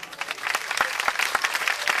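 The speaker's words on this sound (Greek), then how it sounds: "Πρέπει λοιπόν να δώσουμε το πιο ζεστό μας χειροκρότημα στους τρεις αποχωρήσαντες πρώτα τραγουδιστές, το Φλούριο τον Ασπρομάτι," A concert audience at a 2010 Greek music performance applauds warmly, a dense, sustained patter of many hands clapping throughout, moderately loud with no pause.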